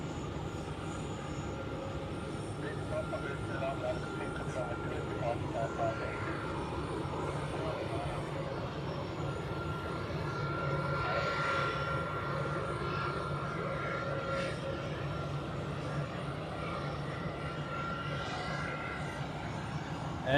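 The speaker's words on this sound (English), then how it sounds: "Then coming up from our right is an Edelweiss A320 outbound to Hurghada in Egypt." An Edelweiss Airbus A320 jet at Zurich Airport gives a steady, fairly distant engine roar that swells slightly midway, heard outdoors in freezing weather with no talk.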